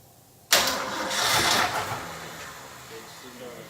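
A car engine with a noisy smog pump cranks and catches abruptly, a loud broadband roar that swells then settles into a rough idle, recorded up close.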